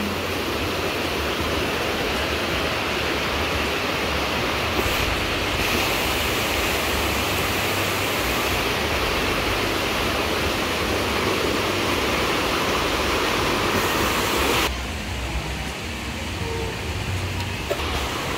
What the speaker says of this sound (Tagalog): Tingnan niyo yung current ng tubig, guys. Malakas pa din.